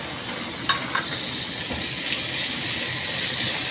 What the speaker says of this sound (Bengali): টমেটোটাকে এবার গলা পর্যন্ত একটু ভাজবো।